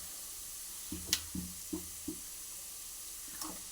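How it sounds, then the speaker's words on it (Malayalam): Chili powder goes into a pan of ginger and garlic frying in oil, giving a soft steady sizzle with a few short clinks and scrapes of a spoon against the pan, close and fairly quiet. "ഇതിലേക്ക് നമുക്ക് ആവശ്യത്തിനുള്ള മുളക് പൊടി ആഡ് ചെയ്യാം."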